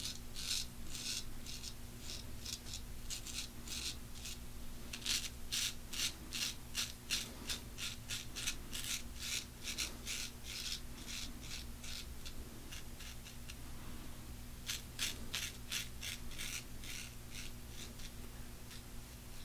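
A razor shaves the neck and along the edge of a goatee on stubbly skin with shaving cream, giving rhythmic close scraping strokes in repeated runs with short pauses, quiet over a low steady hum and without talking.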